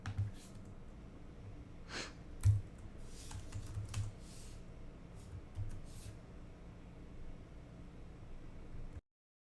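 Steady typing on a computer keyboard with irregular key clicks and a few heavier keystrokes, up close over a faint background hiss, without speech.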